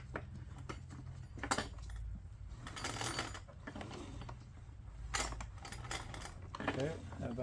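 Pull-start cranking of a small iPower 2000-watt inverter generator engine during valve adjustment, heard as repeated mechanical ratcheting and clattering bursts at close range.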